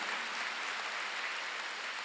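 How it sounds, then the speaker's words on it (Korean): A church congregation at a Sunday worship service applauds, a soft, even hiss of many hands clapping at a distance, steady throughout without voices. "박수."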